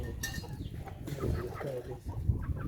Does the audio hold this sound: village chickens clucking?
yes